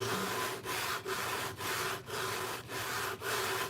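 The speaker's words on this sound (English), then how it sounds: "nice, even, slow, sanding motion" Hand sanding on a Mandalorian helmet build, with slow, even abrasive strokes in a steady rhythm of about seven passes, each separated by a brief pause, close and fairly quiet.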